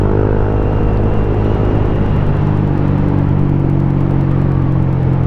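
Motorcycle engine held at a loud, high-revving drone, close and continuous with a steady tone shifting slightly in pitch, alone without voices.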